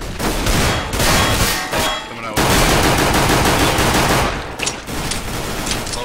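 Gunfire in a video game, with dense, continuous automatic bursts filling most of the clip, a brief pause partway through and sharper isolated shots near the end.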